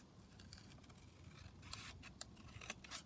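Scissors snipping through paper ephemera in a series of soft, close cuts and rustles, quiet and alone with no talking.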